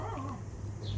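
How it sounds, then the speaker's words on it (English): Neighbors' dogs give a brief whimpering yip in an outdoor garden, moderately near, over a low background hum. "the neighbors just showed up with their dogs"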